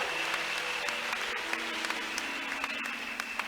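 A church congregation applauding after a sermon: steady, dense clapping from a crowd, fairly even and sustained throughout with no clear pauses.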